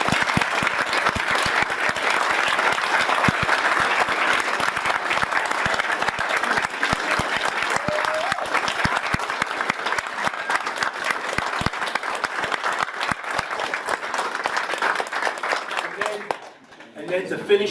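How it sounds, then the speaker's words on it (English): A ceremony audience gives sustained applause for first responders, a dense, steady wash of many hands clapping throughout, fading out near the end. "one more big round of applause"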